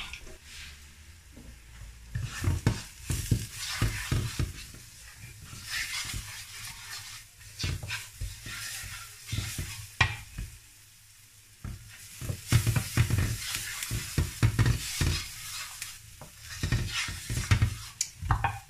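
Onions, garlic and spices cook in a pan while a spoon stirs them, making uneven bursts of scraping and sizzling that rise and fall, with short quieter gaps in between.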